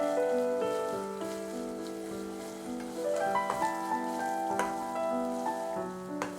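Chicken pieces for Payyoli chicken fry deep-fry in oil over a medium-high flame, giving a steady, soft sizzle and crackle under prominent background music, with no talking.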